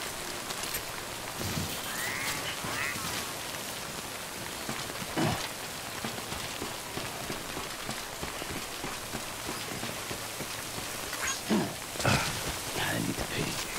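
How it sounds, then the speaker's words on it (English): Acid rain pours steadily in the video game Death Stranding, a continuous hiss of drops on surfaces with a few sharper spatters, while voices talk over it. "But there's acid rain."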